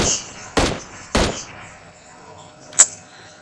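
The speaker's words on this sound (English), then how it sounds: "I swear to God, who is shooting?" Gunfire in the mobile battle-royale game PUBG Mobile: two sharp, loud shots about half a second apart, then a fainter third crack a moment later, over low background game noise.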